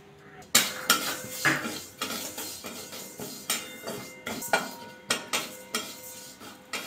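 Moong dal is dry-roasted in a pan while a metal spatula stirs it, producing a steady rhythm of about a dozen close scraping clinks against the pan, roughly two per second, with no talking.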